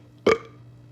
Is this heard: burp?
yes